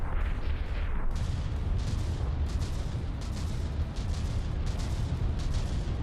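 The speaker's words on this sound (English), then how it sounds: "Shooting the cram cannon is," Cram cannon fire from battleships in a From the Depths battleship tournament, a continuous rumble of booms with repeated sharper bursts spaced through the clip, loud and without talk.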